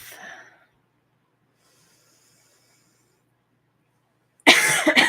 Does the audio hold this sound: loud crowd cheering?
no